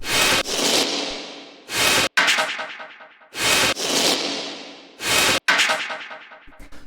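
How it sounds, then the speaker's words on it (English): Harsh, distorted synth bursts in a repeating pattern, each noisy blast decaying into a gritty, stuttering tail. "Then we have these distorted effects, which sound like this."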